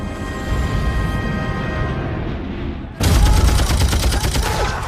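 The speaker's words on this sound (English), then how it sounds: "When the Allied forces land, they're met with a hail of machine gun fire." Heavy WW2 battle sounds of Allied forces landing against Atlantic Wall defences: dense shelling rumble, then a sudden loud burst of rapid machine gun fire that continues as sustained crackling volleys, with no voices.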